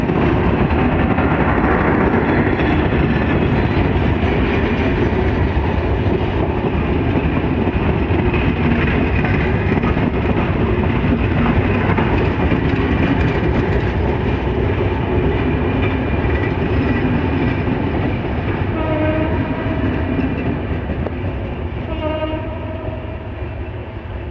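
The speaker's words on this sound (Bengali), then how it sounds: "বেনাপোল এক্সপ্রেস ট্রেন ঢাকায় ঢুকলেন রাত 8:30টায়" The Benapole Express passenger train rumbles loudly and steadily past at close range, arriving in Dhaka at night, wheels clattering, with a horn sounding toward the end.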